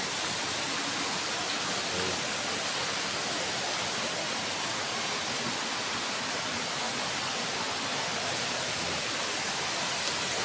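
Water rushes at Portabaga Falls in a dense, unbroken roar that stays loud and close for the whole stretch, with no voices.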